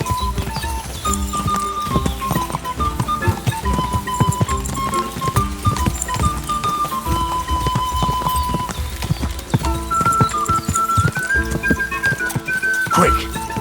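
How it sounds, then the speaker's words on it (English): Horse hooves clip-clopping at a steady gallop with a whinny, from the Kingdom Come Deliverance 2 video game, loud and continuous under game music and voices. "Easy, good horse."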